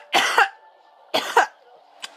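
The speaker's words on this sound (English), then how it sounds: "Every time I laugh, I cough." A character in the Minecraft Story Mode video game coughs in two loud, close bursts about a second apart, followed by a brief faint third cough, with no talk over them.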